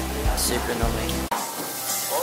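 Mushrooms fry in a pan with a steady, close sizzle and hiss running throughout, while a person speaks briefly over it and there is a short handling clunk partway.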